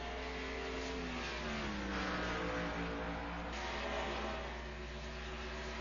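Late model race cars at Bristol Motor Speedway lapping slower traffic, faint engine drone with rising and falling revs as the cars sweep past, no talking.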